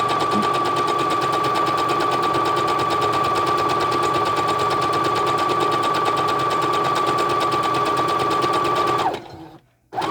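A sewing machine stitching doll tights made from women's tights runs loud and close in a steady, fast mechanical hum with rapid needle clatter, then stops abruptly near the end.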